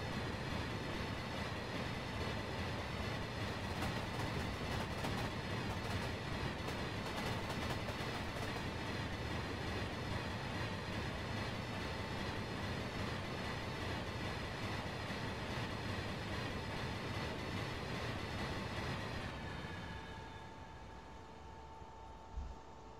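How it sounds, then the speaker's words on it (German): An oncoming ICE T train in Train Simulator 2022 on the Leipzig–Dresden line gives a loud, steady roar and rumble with a faint electric whine for about nineteen seconds, then drops off sharply to a quieter hum. "Da kommt uns schon ein Zug entgegen."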